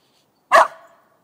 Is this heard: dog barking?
yes